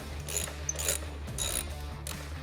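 Ratcheting clicks from a tool with a T45 Torx bit loosening a screw on a Harley-Davidson motorcycle floorboard, a few short close bursts of clicking separated by brief pauses.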